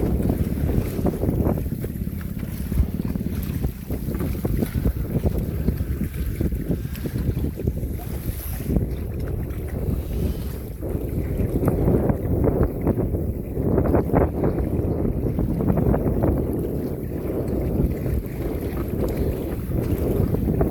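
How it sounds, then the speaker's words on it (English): Strong wind gusts roar steadily across the microphone on a sailing canoe off South Devon, a constant low buffeting rumble with water sounds underneath. "A few funky gusts out here."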